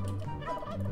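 Cartoonish turkey gobbling from the Turkey Photographer unit in the Roblox game Toilet Tower Defense, a loud, close warbling call filling the whole short moment with no talk over it.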